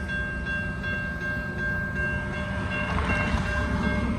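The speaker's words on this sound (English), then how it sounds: "We got a southbound CSX coming from over here." A southbound CSX freight train rolls past with a steady heavy rumble and a clattering of wheels, while a sustained horn tone rings loud and near throughout.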